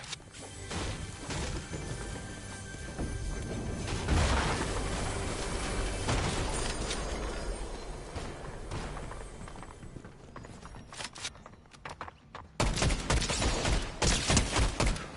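Rapid gunfire and crashing impacts in a Fortnite match fill the stretch as a dense, continuous barrage, growing heavier in sharp bursts toward the end, with no speech.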